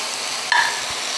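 Green chillies dropped into okra frying in a pan, heard as a steady close sizzle with a brief stir and a short metallic scrape in the middle.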